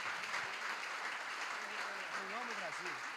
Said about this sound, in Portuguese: Você pode aplaudir Jesus pela vida do pastor Henrique?